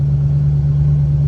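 Diesel engine of a pulling truck running at a steady idle, a close, constant low rumble with a strong, even hum and no other sounds over it.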